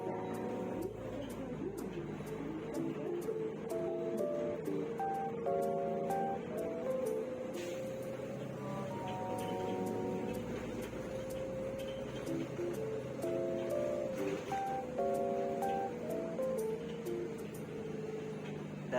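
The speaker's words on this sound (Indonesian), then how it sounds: "Dari tadi tuh aku mau komen tentang suara yang ada di dalam bus ini." Steady cabin noise inside a Zhongtong TransJakarta bus on corridor 10, near Tanjung Priok terminal: a continuous droning rumble with sustained whining tones layered on top, unbroken throughout.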